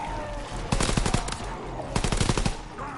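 Two quick bursts of rapid machine pistol fire crack out in Call of Duty WWII zombies mode, each a tight string of loud close shots, with a brief lull between them.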